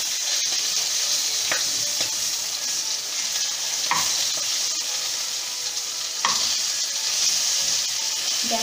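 Stuffed red chillies for a Banarasi pickle fry in oil in a pan, with a steady, close sizzle throughout and a few brief clinks or stirring knocks.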